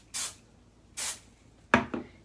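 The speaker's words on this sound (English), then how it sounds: "I'm going to hit it now with the Aussie Instant Freeze Hairspray, and just short bursts is the key" Aussie Instant Freeze hairspray goes onto hair in short, separate bursts: three crisp hisses, close to the mic, each followed by a pause, and a final quick double spritz.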